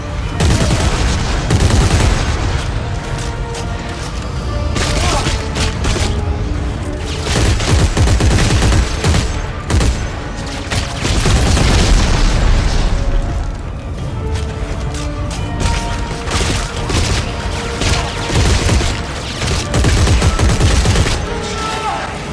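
Sustained heavy gunfire in the video game Dead Space 3 pounds away in dense, repeated bursts and volleys against enemies, loud throughout with booming impacts and occasional talking mixed in.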